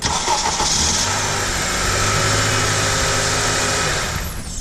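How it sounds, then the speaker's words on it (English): A 2008 Honda Odyssey engine cranks and fires up after a starter repair, a loud, close, sustained whir of the starter and engine that settles into a steady idle before tapering off. "Let's start this baby up and see how it sounds."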